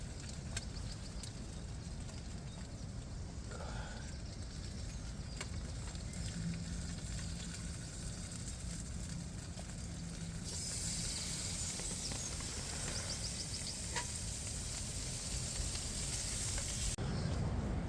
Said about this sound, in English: chuck some bacon on there and chuck some bacon in there